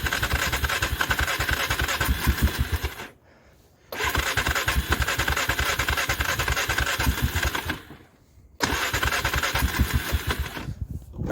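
A cold Polaris 425 ATV engine runs in the woods with a rapid, rough putter, cutting out twice into brief near-silence before catching again, loud and close.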